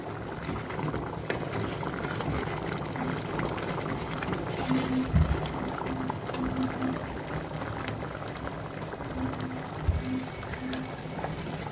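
Ada pradhaman, a Kerala dessert of rice ada in coconut milk and jaggery syrup, simmering and reducing in a pot, giving a steady close bubbling hiss with a few soft spoon knocks.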